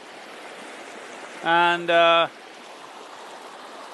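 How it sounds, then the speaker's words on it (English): Tributaries of the Noyal River rush through lush green forest in the Velliangiri foothills after the monsoon, a continuous broadband flowing-water hiss with a brief spoken word partway through. "many tributaries of the Noyal River flowing in a very spirited manner right now, post-monsoon"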